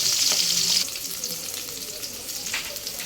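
Fish coated with turmeric, chili and salt sizzles in hot oil, a loud bright hiss at first that settles into a steadier, quieter crackle with occasional spatters.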